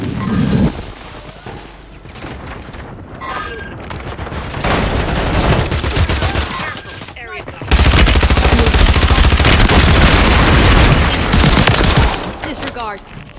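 Loud, sustained video game gunfire, rapid machine-gun bursts and heavy shots layered into near-continuous volleys that grow more intense midway, with voices speaking between and over the shooting.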